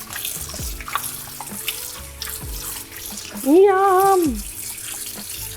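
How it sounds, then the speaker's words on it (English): Tap water runs over cut potatoes in a kitchen sink, a steady splashing flow under clattering and handling noises, with a short sung or hummed tone and a brief spoken word. "you wanna keep running water over it until the water runs clear"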